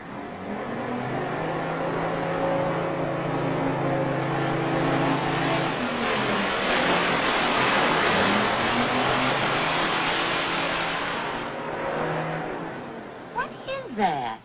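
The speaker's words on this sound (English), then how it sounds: "Sounds like a big truck." A big truck arriving in a suburban driveway, a heavy engine rumble that swells to a loud, close peak and then fades, with people talking over it.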